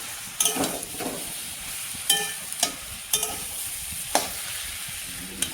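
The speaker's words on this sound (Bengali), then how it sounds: "জলটা ভালো করে শুকিয়ে গেছে আর ভাজা ভাজা হয়ে যাচ্ছে" Potato, pumpkin and cauliflower stems frying dry in a pan, a soft sizzle punctuated by several sharp scraping stirs of a spatula at irregular intervals, close and alone without talk.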